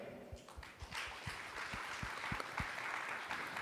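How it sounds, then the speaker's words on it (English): Audience at a startup-ecosystem panel discussion clapping for a speaker being introduced, a steady wash of applause with a few distinct low thumps, moderately distant and unbroken. "Please give him a round of applause in both Singapore and Hong Kong."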